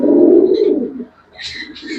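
Big-size male Lahori Sirazi pigeon in breeding mode cooing at a pigeon market, a low throaty coo up close, followed by brief chirpy bird calls in the background.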